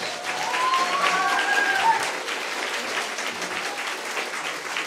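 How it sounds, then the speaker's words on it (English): An audience applauds steadily and loudly at a community holiday event in Detroit, a dense wash of clapping with a few brief voices and whistles near the start, holding throughout. "One more time, big round of applause."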